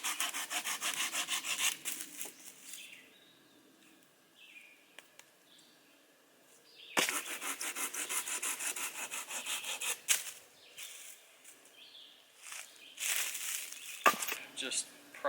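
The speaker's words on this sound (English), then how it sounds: "just cut up some firewood" Hand saw cutting firewood at a summer campsite, with rhythmic back-and-forth rasping strokes close by in bursts separated by pauses, birds chirping faintly in the background.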